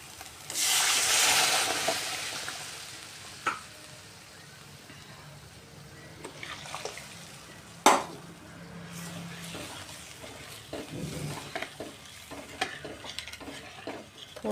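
Water poured into misal masala frying in oil, giving a brief hissing burst at the start, then intermittent scraping and clinking of a spoon stirring in the pan, with one sharp knock partway through.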